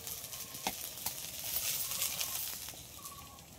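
Okra and potatoes fry in a pan while a spoon stirs them, soft sizzling broken by a few light scraping clicks, faint and close.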